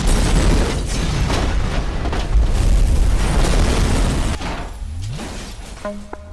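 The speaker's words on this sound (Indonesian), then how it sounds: "sebuah ledakan menghancurkan sebagian dari stasiun itu" A loud, rumbling explosion destroys part of a train station in a film, with a sustained roar and debris, fading after a few seconds into quieter mechanical tones.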